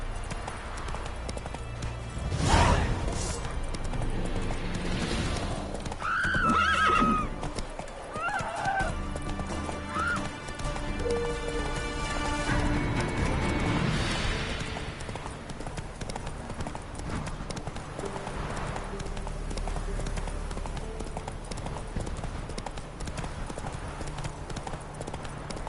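A horse neighs loudly and hooves clip-clop in a rapid rhythm, mixed with whinnies and movement noise, fairly close, with a voice speaking at times.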